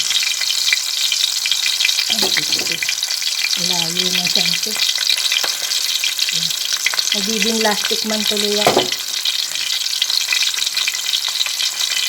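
Oil sizzles and crackles steadily as pompano fish fries in a pan, close up, while a person speaks briefly in the middle.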